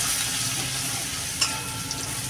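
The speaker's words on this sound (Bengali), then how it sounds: "তেলটা গরম হয়ে গেছে, এবার আমি দিয়ে দেবো রসুন। রসুনটা একটু ভালো করে ভাজা ভাজা করে নেবো" Garlic sizzles in a little hot oil in a pan while a chili shrimp dish is being cooked, giving a steady close crackle and hiss with a couple of small stirring clicks and no talk.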